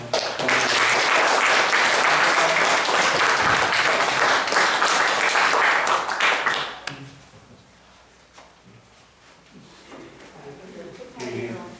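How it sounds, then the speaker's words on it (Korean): A church congregation at a children's Sunday worship service breaks into loud sustained applause for about seven seconds. The clapping then drops away abruptly, leaving quieter room sound and voices. "주님을 축복하는 마음으로 우리 큰 박수 한번"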